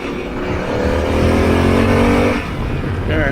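A Harley-Davidson Pan America motorcycle riding in third gear, its engine droning loud and steady close by, pitch holding then easing off before picking up again.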